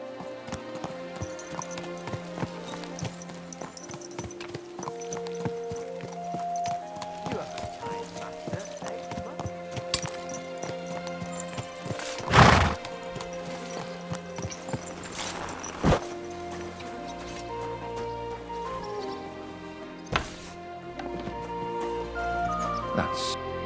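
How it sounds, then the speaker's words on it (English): Horse hooves clip-clop steadily in the video game Kingdom Come Deliverance II, a close rhythmic walking gait with occasional neighs and whinnies, scattered ambient noises and a couple of louder thumps. "Easy, good horse."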